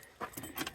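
A set of keys jangles and clicks in a short burst while unlocking a lockbox cable-mounted to a truck frame, close and fairly quiet, with no talk.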